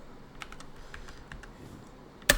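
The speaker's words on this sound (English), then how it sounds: "if I'm able to type on the keyboard" A computer keyboard is typed on in short, scattered bursts, with a handful of quiet, crisp key clicks spread across a low room hiss and a sharp, louder knock right at the end. No one speaks.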